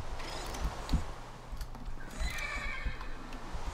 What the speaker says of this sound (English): And then our newest horse, Colin.